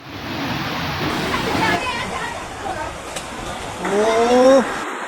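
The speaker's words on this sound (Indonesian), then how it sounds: "Sungai meluap, tanggul jebol, dan warga Kudus kembali berjibaku dengan air di akhir Desember." A flooded, overflowing river in Kudus, Indonesia, with a broken embankment, gives a steady broadband rush of water, loud and continuous, with a voice talking over it.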